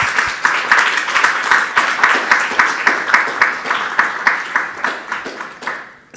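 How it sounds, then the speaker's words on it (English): A conference audience gives panellists a round of applause: steady, dense clapping from a hall full of people that holds at an even level, then fades and stops near the end. "can we have a quick round of applause for our panellists?"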